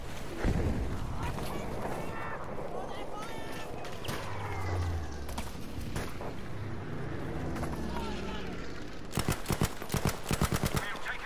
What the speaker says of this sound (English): Somebody shooting behind me.